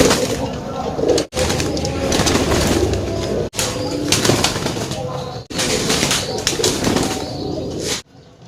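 Domestic racing pigeons coo and flap their wings up close in a loud, dense flurry of soft calls and wingbeats, broken by a few brief gaps.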